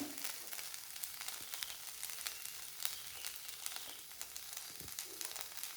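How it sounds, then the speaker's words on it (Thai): Winged termites roast with herbs in a hot pan, giving a steady, close sizzle and crackle with occasional sharper pops and faint stirring, no voices over it. "แมงเม่ากระทะร้อน"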